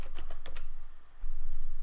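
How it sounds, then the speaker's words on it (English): Keys clatter on a computer keyboard in a short burst of quick, close taps, followed by a low steady hum. "You can hear me typing."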